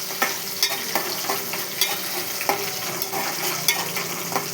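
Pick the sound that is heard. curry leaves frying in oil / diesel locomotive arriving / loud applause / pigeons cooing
curry leaves frying in oil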